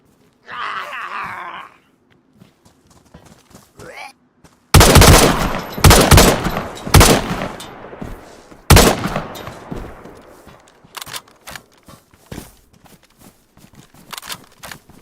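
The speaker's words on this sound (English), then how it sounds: "I'm shooting. I shall be shooting again." Gunshots from the video game DayZ come as a loud, dense volley of sharp cracks starting near five seconds, then further single shots and short bursts. A groaning, moaning vocal sound comes earlier.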